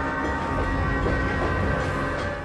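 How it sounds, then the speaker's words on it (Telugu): A train pulling out of a station in a movie scene, a loud, steady rumble of wheels and carriages with dense low-end roar that holds constant throughout, with no voices. "ట్రైన్ స్టేషన్ నుంచి బయలుదేరింది."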